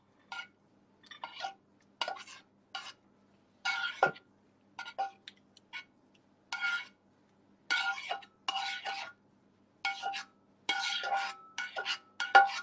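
A metal pan used for frying tofu knocks and scrapes in short separate bursts, close and fairly quiet, with clinks and utensil scrapes separated by brief silences.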